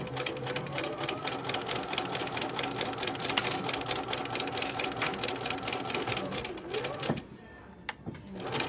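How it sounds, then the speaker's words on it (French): A domestic sewing machine stitches along a zip on a pouch, a fast, steady mechanical whirr of needle strokes running close and continuous before slowing and stopping near the end, followed by a couple of clicks. "il ne reste plus qu'à piquer jusqu'au bout tout le long"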